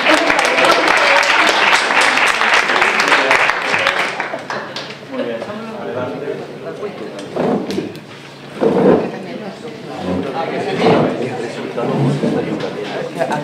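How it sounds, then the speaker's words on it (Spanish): Workshop participants clap briefly in a room, a burst of applause lasting about four seconds before fading, followed by scattered knocks and people talking. "Pues venga, el aplauso."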